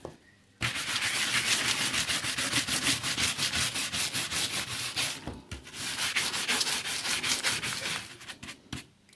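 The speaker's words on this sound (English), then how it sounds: "a number of people said to use boot polish on the back of these covers to bring them up, so that's what I'm doing" Boot polish being rubbed by hand onto the case cover of a vintage NordMende Elektra 58 radio, a close, steady rhythmic scrubbing with rapid back-and-forth strokes, pausing briefly near the middle and again at the end.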